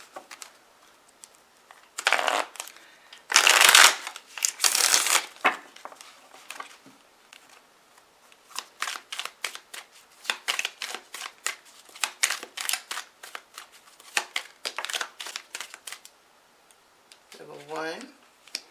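Tarot cards riffled and shuffled in bursts of crisp papery flutters, then quicker rhythmic card snaps and slaps at close range, ending with a brief murmuring voice.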